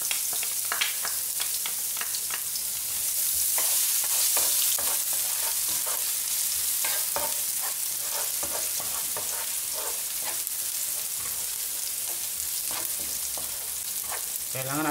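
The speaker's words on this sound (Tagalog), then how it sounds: "Gagamit tayo ng cooking oil panggisa. Unahin natin igisa ang bawang." Garlic sautés in hot cooking oil with a steady, close sizzle, broken by frequent sharp scraping and stirring clicks throughout.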